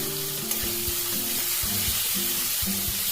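Masala spices frying in oil in a pan while cooking a thin pabda fish jhol, a steady hissing sizzle broken by soft low knocks and scrapes of stirring, close and continuous with no talk.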